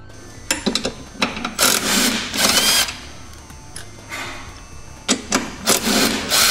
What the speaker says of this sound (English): we'll remove the 2 fasteners securing it to the frame.